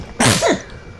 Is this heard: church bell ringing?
no